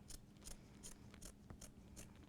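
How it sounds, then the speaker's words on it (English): Scissors snipping through fabric while making face masks, a quiet regular series of about seven crisp cuts at a steady rhythm, close up and with no talking. "I'm going to take my scissors and I'm going to start cutting."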